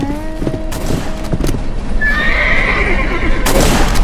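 A horse in the western video game Westbound gives a loud, rising whinny over hoof clip-clops and gunfire-like booms, with game music and a voice underneath.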